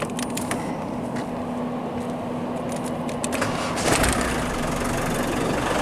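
Range Rover Classic engine idling just after starting, a steady low rumble with a constant hum, close and fairly loud, alone with no talking.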